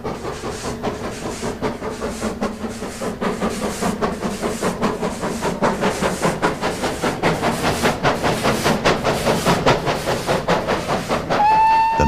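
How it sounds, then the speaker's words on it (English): GWR Castle Class 5066 steam locomotive with a flat-sided Hawksworth tender rolls past, wheels clattering in a steady rhythmic beat that grows louder, before a sharp steam whistle sounds at the end. "Castle Class 5066 was renamed Sir Felix Pole in 1956. Note the flat-sided Hawksworth tender"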